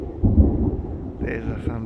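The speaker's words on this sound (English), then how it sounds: "There's the thunder." Thunder in a storm: a loud, close rumble that swells in deep rolling waves and then eases off over about two seconds, with no other sound on top.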